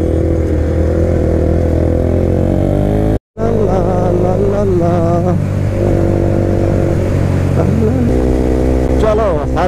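A motorcycle rides along a road on a long tour from Jaipur to Chandigarh, its loud steady engine drone filling the whole stretch with wind rush and shifting pitch. There is a brief dropout partway through.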